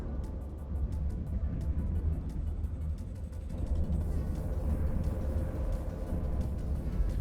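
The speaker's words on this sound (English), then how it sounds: "Yeah, that sound is moon drill." Continuous low rumbling hum of the EVE Online moon drill tractor beam, steady and droning, thickening slightly partway through with faint ticking above.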